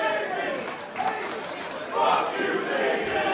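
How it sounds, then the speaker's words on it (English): A wrestling crowd at a live show cheers and shouts in a dense, swelling roar, rising to a louder burst of yelling partway through. "Let the crowd do the talking"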